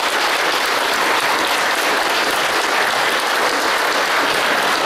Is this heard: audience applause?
yes